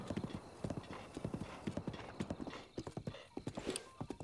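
A horse's hooves clop in a quick, regular galloping rhythm in Zelda: Breath of the Wild, fairly close and steady, with no voices present.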